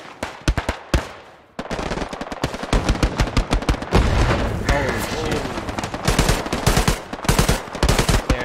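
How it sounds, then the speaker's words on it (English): Rapid bursts of rifle and machine-gun fire ring out in the World War II shooter Hell Let Loose, with sharp headshot impacts among them and distant booms. The fire comes close and loud over about eight seconds. "Oh, that headshot sound is so good."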